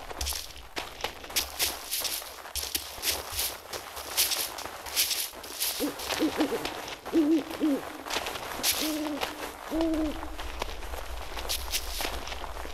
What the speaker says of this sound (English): An owl again. This time it sounds real.